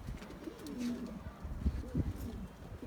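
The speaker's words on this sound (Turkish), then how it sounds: "Adana ırkı, yerli güvercini." Adana breed native domestic pigeons coo softly in low, throaty rolls, faint against a hum of background noise, with a few coos repeating over a few seconds.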